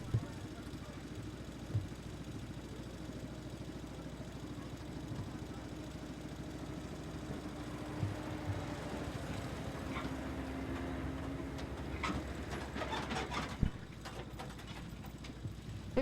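Cub Cadet 14 horsepower garden tractor engine at a county fair tractor pull, idling with a steady low rumble that rises and clatters near the end, moderately loud under faint crowd noise.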